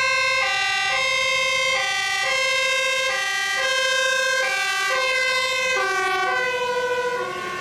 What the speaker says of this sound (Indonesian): Wah, fire truck, mobil pemadam kebakaran.